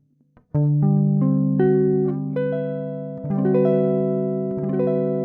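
A Mixolydian scale is played note by note on a sustained, clean-toned instrument in a music-theory lesson, each pitch ringing into the next as the line builds for about five seconds, with no speech.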